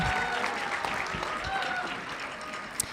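Audience applause at a high school chorus concert, a steady wash of clapping throughout at moderate level, with a sharp isolated clap near the end.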